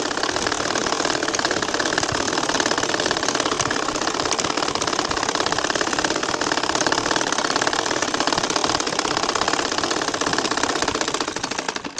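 An ordinary sewing machine stitches a line of nakshi kantha with a fast, steady, close mechanical whirr and rapid needle ticking that runs without pause and eases off at the very end.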